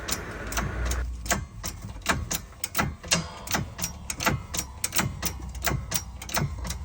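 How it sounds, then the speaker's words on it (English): Wheel bearing being pressed into a hub while the spindle is spun by hand, giving a steady run of sharp mechanical clicks and ticks, close and fairly quiet, with no talking. "as I press the bearing into the hub, I'll keep spinning the spindle and it stays nice and free"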